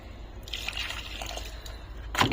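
Water trickles and splashes onto a potted plant for a couple of seconds, a close, light pouring sound ending in a brief louder splash, with no talking.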